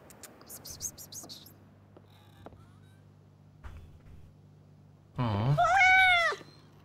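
A Siamese cat in the video game Life Is Strange: Double Exposure gives a loud, drawn-out meow near the end, after a stretch of quiet game ambience with faint chirps.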